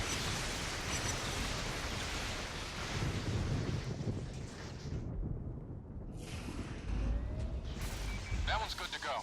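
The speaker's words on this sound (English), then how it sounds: "Man, lightning storm is so awesome." The lightning storm power in the PS3 game inFamous roars as a loud, sustained rush of crackling, wind-like noise. It surges for several seconds, thins out briefly, then flares again.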